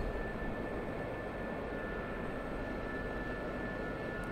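Steady droning rotor and turbine noise of an SA 342M Gazelle helicopter in the DCS flight simulator, a continuous even engine hum with a thin high whine, filling the clip without any talk.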